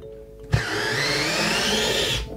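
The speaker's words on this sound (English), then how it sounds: "I will try with a drill mode." An IKEA FIXA 7.2V cordless drill in drill mode spins up sharply and runs at a steady, loud whir for nearly two seconds before stopping. It is heard close and alone.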